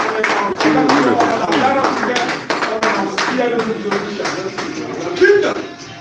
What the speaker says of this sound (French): Il faut applaudir les récompenses, il faut applaudir le parcours